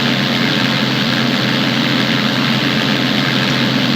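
Propeller engine of a tow plane pulling a glider aloft, a loud, constant droning roar with a steady low hum that stays even throughout, heard from the towed glider with no talk.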